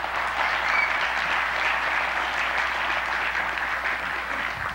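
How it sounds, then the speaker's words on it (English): A church congregation breaks into steady, dense applause that holds at an even level from start to finish, with no voices rising above the clapping. "Let's give Him a round of applause."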